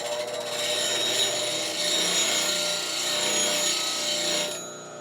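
A skew chisel for woodturning is drawn across a sharpening tool, giving a continuous close grinding, rasping rub that holds steady for several seconds before easing off near the end, with no talking.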